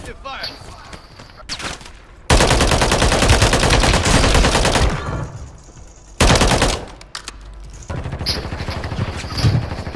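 Heavy automatic gunfire in Call of Duty Warzone on the Fortune's Keep map, with two long, loud sustained bursts separated by quieter stretches and brief shots, while players talk over it.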